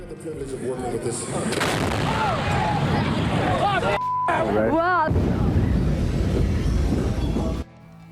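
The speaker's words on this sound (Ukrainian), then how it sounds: "І тут пролунав вибух." A loud, sharp bomb blast from a backpack bomb rings out amid a noisy crowd at the Atlanta Olympics, with shouting voices and whistling tones around it before the sound cuts off abruptly.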